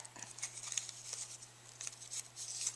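Scissors snip through folded paper edges in a quiet crafting session, a handful of short, crisp cuts in an irregular pattern, close and soft.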